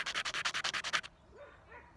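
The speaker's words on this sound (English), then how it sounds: "I got to do a little bit more sanding on the one end" The end of a pine nut is sanded for a bracelet with about nine quick, even rasping strokes in a steady rhythm, close and crisp, then the scraping stops abruptly into quiet.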